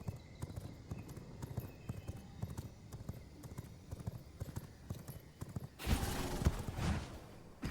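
A horse gallops in the video game V Rising, a fast steady clip-clop of hooves running throughout at moderate volume, joined near the end by a louder burst of noise.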